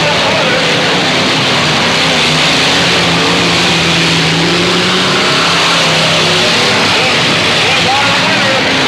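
Demolition derby cars race around a dirt track at a 1985 Moses Lake event, engines roaring loud and constant with a noisy crowd-and-announcer wash layered over the continuous motor drone.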